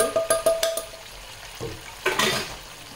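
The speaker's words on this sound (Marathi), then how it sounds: "टोमॅटो इथे छान परतत आलेला आहे आपला. हे बघा तेल मस्त बटर सुटलेलं आहे टोमॅटोला." Tomatoes fry in oil and butter in a pan for restaurant-style dal makhani. A spoon clinks several times against the pan over a soft sizzle, close up, with no talking.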